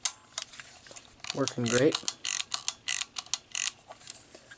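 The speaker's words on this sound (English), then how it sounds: "But the shutter works great on all speeds." A Yashica camera shutter fires at various speeds, giving about a dozen sharp, close mechanical clicks in an uneven rhythm, with a brief spoken comment in between.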